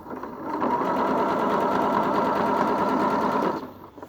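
An overlocker runs steadily for about three seconds, stitching elastic onto the edge of trouser fabric. The machine is close, with a rapid, even mechanical whir that starts and stops cleanly.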